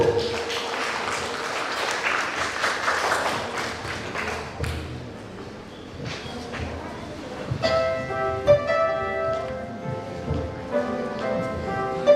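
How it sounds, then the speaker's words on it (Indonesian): A wedding crowd claps for several seconds, then the clapping fades as music with sustained tones begins in a reverberant room. "Tepuk tangan untuk keluarga baru kita."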